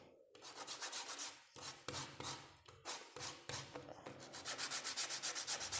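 Paper blending stump being rolled and twisted against a tabletop to form a point, giving a steady dry rubbing and scraping sound in repeated strokes, close and fairly loud, with no talking.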